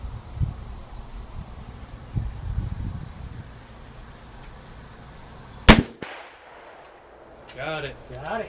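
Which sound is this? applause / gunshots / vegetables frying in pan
gunshots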